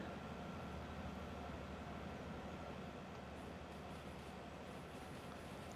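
A train in Derail Valley rumbles along on a long climb out of City West, a steady, continuous rolling drone of wheels and engine that keeps going with no speech.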